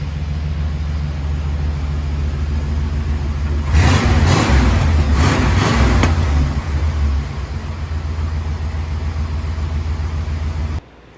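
A 1977 Pontiac Can-Am's engine runs steadily with a low rumble, quiet through its catalytic converters, with a brief louder swell of revs near the middle before settling back to an even idle until it cuts off.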